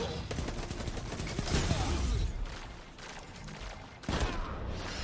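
A charged Cerberus full-auto shotgun in a video game fires loud, sustained volleys of blasts, dipping briefly before a sharp fresh burst near the end, with faint talk underneath.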